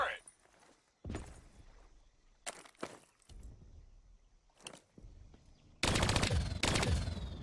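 Bursts of turret gunfire in the shooter game Call of Duty: Black Ops III, sharp cracks scattered through the first seconds, then a loud sustained volley at the end, with shouted voices mixed in.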